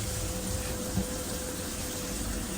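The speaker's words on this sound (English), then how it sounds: "Water is on." Water runs steadily from a bathroom sink tap into a basin with an open drain stopper, a continuous broadband rushing that stays even and close throughout, with no talk over it.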